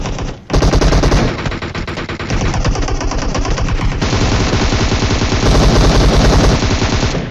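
An enemy player's gunfire on a bridge in an online shooter video game: loud, rapid automatic bursts that pour out almost continuously, close and dominant, with no talking.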